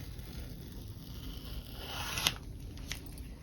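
Scissors snip through cloth while a tailor cuts a lapel, one short crisp cut standing out above a faint, quiet background of rustling fabric.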